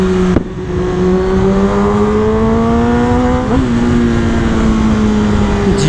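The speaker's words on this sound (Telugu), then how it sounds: "అదొక 1000cc బైక్." A new Kawasaki ZX10R 1000cc motorcycle engine runs loud and close with a steady, smooth hum, its pitch rising slightly and dipping briefly partway through.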